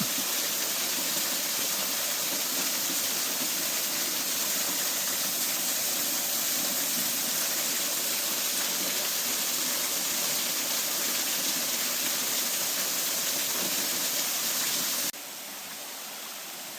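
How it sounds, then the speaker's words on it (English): Steady, dense rush of water from a waterfall on Tooloona Creek, an even broadband roar that holds unchanged for most of the span before dropping slightly at the very end. "And we got another waterfall, believe it or not."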